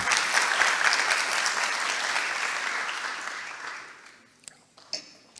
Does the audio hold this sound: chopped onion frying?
no